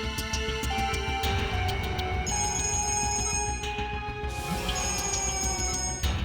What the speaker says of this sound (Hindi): सर, डीसीपी चित्रोले साहब का बार बार फोन आ रहा है।